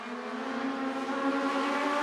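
Legends race cars running in a pack at Hawkeye Downs Speedway during a Midwest Tour feature, a steady, loud blend of buzzing engines droning together close by without a break.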